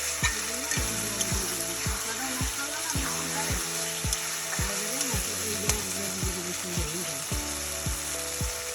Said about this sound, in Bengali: যত সময় তেল না ছেড়ে দেবে অত সময় মশলাটা কষাইতে হবে